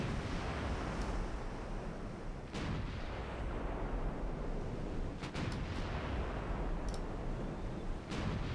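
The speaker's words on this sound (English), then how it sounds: "I'm firing at the heavy cruiser, so load AP if you wouldn't mind." Heavy naval guns in a warship combat game fire on a heavy cruiser, with several sharp booms spaced across a constant loud engine and sea rumble, no talking.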